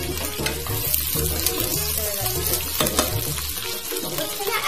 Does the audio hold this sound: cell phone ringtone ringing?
no